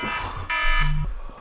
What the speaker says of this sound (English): That is the only alarm you should be using to wake you up from school